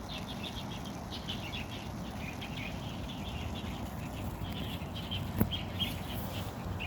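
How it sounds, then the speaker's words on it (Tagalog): Birds in a small garden in Taiwan chirp in repeated faint calls over a steady hiss of outdoor background noise, with one sharp click or snap near the end. "Ayan, mga ibon."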